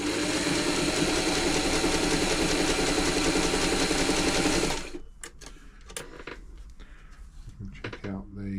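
A Singer 237 sewing machine runs a longer stitch in a steady, loud mechanical whir for several seconds, then stops abruptly, leaving quiet handling clicks.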